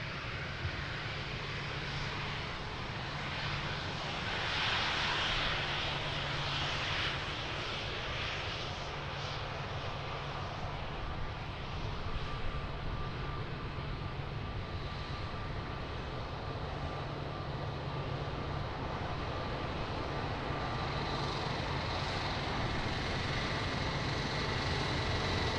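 The engines of an Airbus A330 airliner roar steadily at Lisbon Airport, a loud, continuous broadband rumble with a faint hiss that holds for the whole stretch without letting up.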